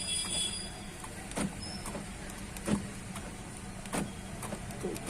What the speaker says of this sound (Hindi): लॉक अनलॉक भी हो रहा है की से